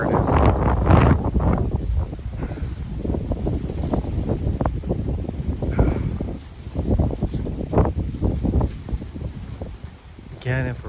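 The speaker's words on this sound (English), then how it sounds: "It's this wind, it's just such a killer." Hot, dry wind gusting outdoors during a record Oregon heat wave, loud rumbling buffets across the microphone with a person talking over them.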